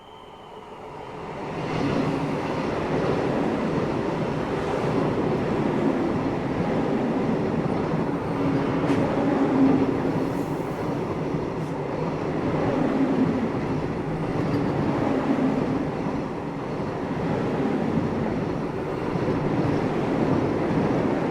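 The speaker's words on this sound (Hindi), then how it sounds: "सामने से आ रही है श्री माता वैष्णो देवी कटरा को जाने वाली वंदे भारत एक्सप्रेस, दिल्ली से जो आ रही है, उससे क्रॉसिंग होगी अपनी।" A Vande Bharat Express bound for Shri Mata Vaishno Devi Katra approaches on a single-line section near Jammu Tawi. A rising rumble and rattle of rail cars builds quickly, then holds steady and loud, with brief squeals.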